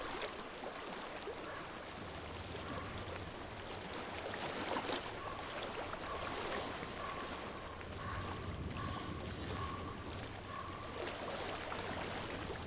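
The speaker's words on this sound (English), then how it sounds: "I hear water." Flowing water in a stream in the video game Hellblade: Senua's Sacrifice, a steady broadband rushing that continues evenly throughout, with a faint airy wind-like wash behind it.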